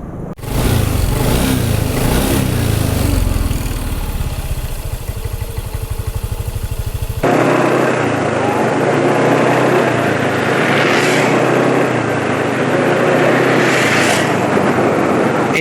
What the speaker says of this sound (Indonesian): Ini suara mesin masih belum kasar